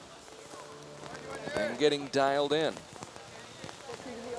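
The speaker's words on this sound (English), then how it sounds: "as the rain continues to come down in buckets" Heavy rain pours steadily at an outdoor archery World Cup venue in Shanghai, a constant hiss beneath a commentator talking.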